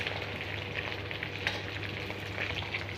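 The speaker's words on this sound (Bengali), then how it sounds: "ডিমগুলোকে একটু লবণ হলুদ দিয়ে এগুলোকে একটু ভেজে নেব" Eggs seasoned with salt and turmeric fry in a pan, giving a steady, even sizzle that hisses on its own without pause.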